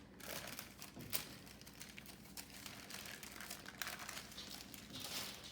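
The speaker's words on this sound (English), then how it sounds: "So now I'm going to slowly pull my wax paper off." Wax paper being slowly pulled off a rolled single pie crust, faint close crinkling and soft peeling crackles with a few sharper ticks, steady and quiet throughout.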